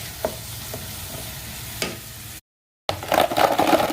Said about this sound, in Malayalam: ഇഞ്ചി, വെളുത്തുള്ളി അങ്ങനെ എല്ലാം കൂടി ഇട്ടിട്ട് ഒന്ന് വാട്ടിയെടുക്കണം മക്കളെ